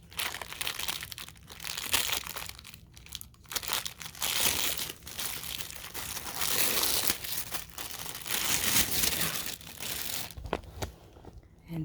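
Plastic packaging around a compressed pillow is cut and torn open, giving a continuous close crinkling and crunching with sharp rustles throughout, fairly quiet and with no talk.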